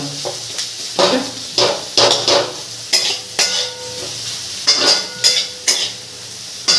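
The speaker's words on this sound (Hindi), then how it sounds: "प्याज डालेंगे और इसको चलाएंगे।" Onions sizzling in a pan for soybean curry while a utensil scrapes and stirs in repeated strokes, close and fairly loud, without speech.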